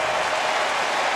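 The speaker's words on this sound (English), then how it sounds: "this one from 27 is good. The crowd applauds." A dense crowd roar of applause follows a made 27-yard field goal at a Clemson versus North Carolina college football game in 2014, a steady wash of clapping from a large stadium audience.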